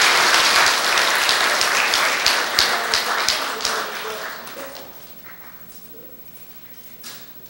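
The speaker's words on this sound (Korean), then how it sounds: "큰 박수로 감사를 표현해 주시기 바랍니다" An audience claps to honor retired Buddhist military chaplains at a Korean commemorative ceremony. The applause is loud at first, thins out into scattered individual claps and fades, and one late clap stands alone.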